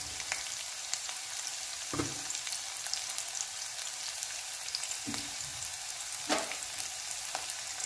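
Shallots and green chillies fry in a pan for a Kerala-style ginger curry, giving a soft, even sizzle with a few scattered spatula clinks and scrapes and no voices.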